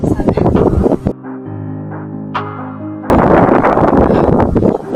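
Strong gusts on a mountain trail batter the microphone in heavy rumbling bursts, dropping briefly to a quieter lull with a faint engine-like drone before the roaring wind returns at full force.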